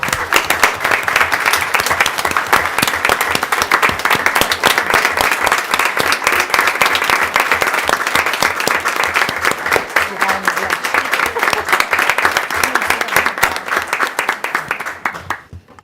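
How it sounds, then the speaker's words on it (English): A sustained round of applause at a school board meeting, steady dense clapping from a room of people, loud and even throughout before tapering off at the end. "Can we give him a round of applause?"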